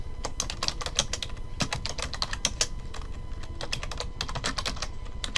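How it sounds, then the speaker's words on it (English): Steady, close-up typing on a computer keyboard as notes are entered, with rapid, evenly spaced key clicks in short bursts and no talking. "With OneNote, all you have to do is click and type"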